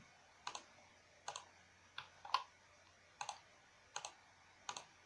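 A computer mouse clicked while working in CYPECAD structural software: about seven crisp, quiet double-edged clicks spaced roughly evenly apart in a hushed room, with no talking.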